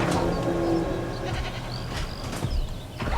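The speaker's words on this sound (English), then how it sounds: "So give him a goat." A goat in Jurassic World Evolution bleats briefly over a dense layer of game ambience and rumble, with a few short thin calls rising above the noisy background.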